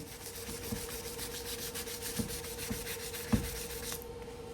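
Scuffing off paint overspray along a masking-tape edge on an airbrushed motorcycle part for a firefighter tribute bike, heard as a steady close rubbing and sanding texture with a few light knocks.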